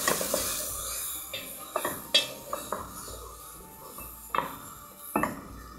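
Swiss chard stirred into onions sautéing in a pot for lentil soup, with a soft steady sizzle under repeated scraping and clinking strokes of a spoon against the pot, close and moderately loud.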